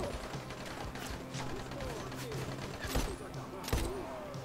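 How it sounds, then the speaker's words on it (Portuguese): Gunfire in Dying Light: The Following, a few sharp shots cracking at irregular intervals over a busy game background, with someone talking throughout. "Alguém atirando."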